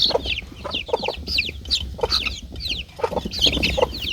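Several country chickens cluck and chatter continuously up close, their overlapping calls forming a busy flock sound.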